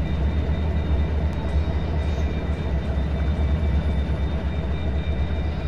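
A WDG4 diesel locomotive in Train Simulator 2023 rumbles steadily with a deep, loud engine drone and continuous rail noise for the whole stretch, with no talking over it.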